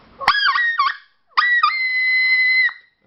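Hunting call blown hard until it locks up: two short honking, whistle-like blasts, the second held longer and steady, close and loud with no other sound around them.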